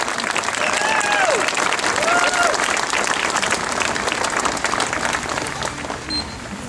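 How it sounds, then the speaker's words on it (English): A crowd at a Jolicoeur Monument gathering claps for a seventh-grade girl about to lead the Pledge of Allegiance; sustained, even applause throughout, tapering slightly near the end, with faint voices mixed in. "give her a round of applause"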